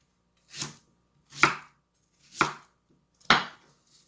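A knife chops pear for kimchi on a cutting board, four distinct sharp chops spaced about a second apart, close and clear in a quiet room.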